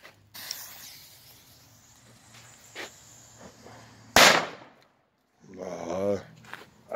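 One sharp, loud firecracker bang bursts out midway, preceded by faint crackles and hiss and followed by a brief silence, then rustling.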